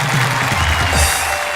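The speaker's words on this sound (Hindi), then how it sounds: "हम जोरदार तालियों से स्वागत करते हैं प्रवीण शुक्ल" A comedy poetry show audience gives a poet a loud, sustained welcome of dense clapping and crowd noise that stays steady for the whole stretch, with low voices murmuring underneath.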